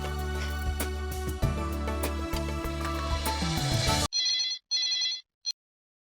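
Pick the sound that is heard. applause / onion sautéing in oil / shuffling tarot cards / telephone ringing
telephone ringing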